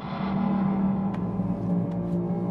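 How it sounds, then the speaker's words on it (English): Sci-fi ship sound made from a garbage can lid pitched down an octave, a low droning metallic hum with faint higher shimmer and a couple of soft ticks. "that's really just a garbage can lid pitched down an octave"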